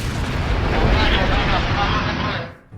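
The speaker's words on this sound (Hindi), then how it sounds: "ईरान के लवाना द्वीप पर हमलों से जोरदार धमाका हुआ" A powerful blast from an attack on an oil refinery on Iran's Lavan Island rolls out as a loud, sustained rumbling roar lasting over two seconds before cutting off abruptly.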